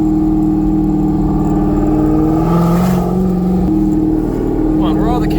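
LS-swapped 500 horsepower Porsche 928 pulling away in second gear, a loud steady engine drone rising in pitch, heard from inside the car with talk over it.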